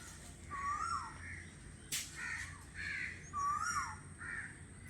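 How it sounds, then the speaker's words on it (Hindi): Asian koel calling in a garden among trees, repeated harsh cawing calls at a moderate distance, about four calls with short pauses, one sharp click between them. "इस तरह से आवाज आया कोयल की।"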